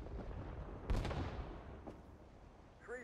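Artillery battery fire in the Vietnam-era video game Rising Storm 2: Vietnam: one heavy booming impact near the start, a fainter second blast a second later, both over a steady background rumble of combat.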